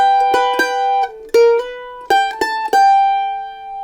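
Mandolin picks out the opening phrase of the fiddle tune Paddy on the Turnpike, a quick run of bright plucked notes with a few sustained ones, played alone and close.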